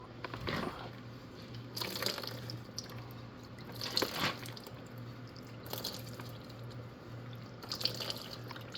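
Water drips and splashes intermittently from a John Deere tractor's steering column, a few distinct close drops spaced a second or two apart over a steady low hum.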